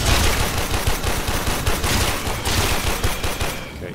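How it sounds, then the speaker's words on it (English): Enemy gunfire in Warframe, dense rapid automatic bursts crackling almost continuously and loud, tapering off in the last half second, with no talk over it. "Somebody's shooting at me."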